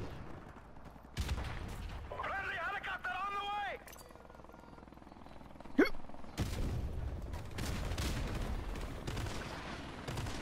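Gunfire bursts in Modern Warfare Remastered Domination multiplayer crackle through a busy game mix, with a sharp loud shot near the middle and a steady barrage of firing afterward, while a person talks over it.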